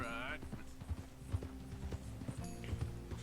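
Ridden horse's hooves clip-clopping in a steady walking rhythm, close and distinct over a low background hum, with a brief whinny-like tone at the start.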